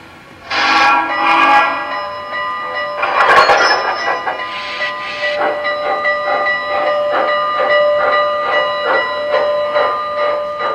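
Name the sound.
model steam locomotive sound effects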